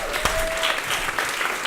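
An audience at a live VR game event bursts into steady, dense applause that holds at an even loudness throughout, with a faint sustained tone briefly audible beneath the clapping.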